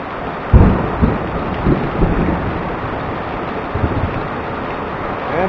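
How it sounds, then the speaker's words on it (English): Deep rolling thunder booms through a heavy thunderstorm, with a sharp crack near the start followed by several lower rumbles over a steady wash of loud rain. "we just got some big thunder and lightning"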